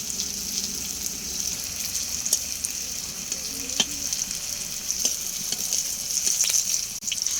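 Pumpkin pieces fry in hot oil with a steady, close sizzle throughout, broken by a few soft clinks and stirring scrapes, with no talking over it.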